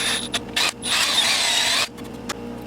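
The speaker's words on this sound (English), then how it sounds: "we're gonna just drill a hole" A power drill cuts a hole in an air-powered rifle part, giving a loud, high whirring run of about a second between short clicks and handling noises.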